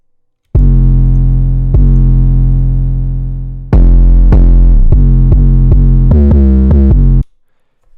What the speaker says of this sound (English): I added this 808 switch up just at the end,